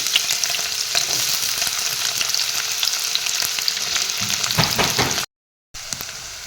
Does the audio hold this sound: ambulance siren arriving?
no